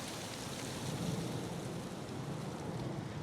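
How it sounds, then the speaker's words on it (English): Steady wind roars across an outdoor microphone beside a parked 2023 Toyota Highlander XLE Turbo, a broad continuous rush with gentle swells and no talk over it. "It's getting windy."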